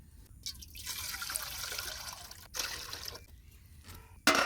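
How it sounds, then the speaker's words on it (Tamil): Water streams into a cooking pot for dal while a village-style sambar is being prepared, a close, soft pouring rush that cuts off briefly twice before a sharp clank at the end. "இப்போ பருப்புக்கு தண்ணி வச்சிடலாம்"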